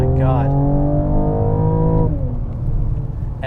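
A 2021 Mercedes CLS 53 AMG engine and exhaust pulls hard with a rising harmonic drone that holds steady, then drops away as the revs fall, loud and close from inside the cabin, with a voice speaking briefly.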